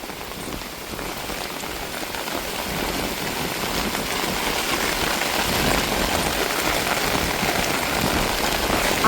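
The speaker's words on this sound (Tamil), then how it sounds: "சரியான காற்று மழைங்க" Heavy rain pours steadily with a wind-driven roar at a seashore, a dense continuous hiss that builds slightly louder over time, with no voices.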